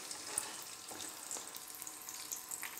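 Chicken thighs laid skin-side down in a frying pan sizzle with a constant hiss and fine crackling spits, close and steady, with no voices over them.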